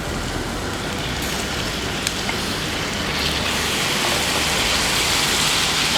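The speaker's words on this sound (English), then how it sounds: "So our tomato goes in." Tomato dropped into hot spiced cabbage sauce sets off a loud, steady hissing sizzle that fills the whole stretch without a break, close and dense, with no voices.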